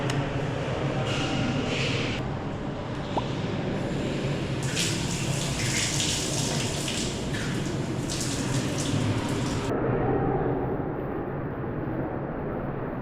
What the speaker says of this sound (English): I'm just going to have a shower here